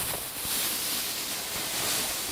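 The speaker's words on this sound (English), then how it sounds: "purse your lips and breathe out against that resistance" Steady breathy exhale forced out through pursed lips against resistance during an ab workout, a continuous soft hiss lasting the whole stretch with no talking.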